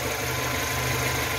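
A Renault Logan 1.0 16V with a fifth-generation CNG kit and a newly replaced ignition coil connector idles smoothly, giving a close, steady hum with no talking.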